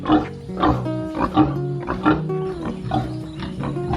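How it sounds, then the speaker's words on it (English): A pig on an overgrown, jungle-like pig farm gives repeated deep, resonant grunts and snorts in uneven bursts, loud and close, with no talk over them. "See how the pig is chilling."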